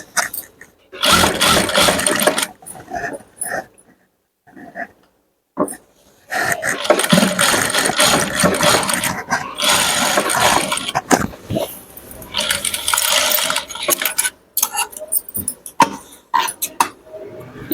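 A sewing machine stitches a chudidar top in loud, close bursts of whirring motor and needle chatter, stopping and starting again with short pauses between runs.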